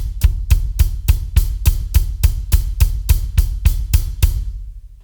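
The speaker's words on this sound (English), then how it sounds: "you could play a kick on every single eighth note and it would sound like this" A deep kick drum hits in a fast, steady stream of about a dozen evenly spaced beats, each one punchy and booming, with nothing else playing.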